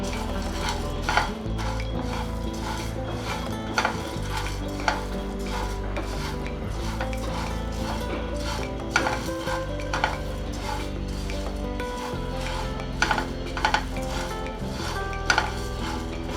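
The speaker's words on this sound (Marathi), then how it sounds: "काळी मिरी लवंग आणि दालचिनी मस्त खमंग भाजून घ्यायचं आहे आपल्याला हे सगळं" Black pepper, cloves and cinnamon dry roasting in a pan, with steady scraping and stirring and occasional clinks of a utensil against the metal, continuous and close throughout.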